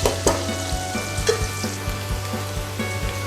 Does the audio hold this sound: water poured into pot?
no